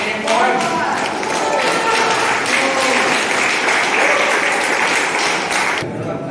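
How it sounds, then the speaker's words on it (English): An audience claps loudly and steadily for several seconds, a dense wash of applause that cuts off abruptly. "So can we have a round of applause?"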